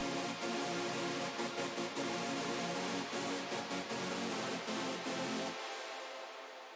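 Dense detuned supersaw chords from a Nexus 2 hypersaw-style preset with a softened attack, a hardstyle lead in FL Studio, playing loud and sustained with rhythmic stabs for about five seconds before cutting off abruptly.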